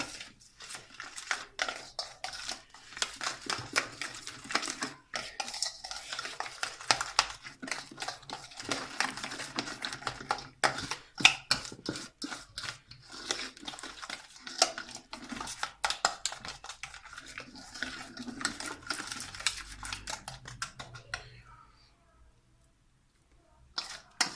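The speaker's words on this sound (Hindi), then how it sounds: "इसको अच्छी तरह मिक्स कर लें।" Chicken leg pieces are worked by hand into a yogurt marinade, giving a long run of dense, close, wet clicking and squelching that stays busy throughout and then drops to near silence at the end.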